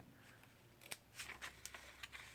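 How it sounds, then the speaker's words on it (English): Quiet, close snips of scissors, several short crisp cuts in an uneven rhythm through ribbon. "Then we just take our scissors"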